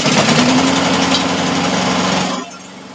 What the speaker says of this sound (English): I was going to fire this lawnmower up